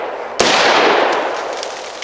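A single sharp AR-15 rifle shot cracks loud and close at an outdoor shooting range, its report ringing and decaying for over a second with no voices.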